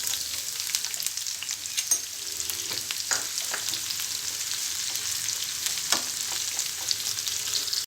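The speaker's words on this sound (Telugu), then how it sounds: "ఉల్లిపాయ ముక్కలు వేసుకోవాలి." Onion pieces fry in hot oil in a pan with tempering seeds, a steady close sizzle punctuated by scraping stirs and spatula knocks throughout; no speech.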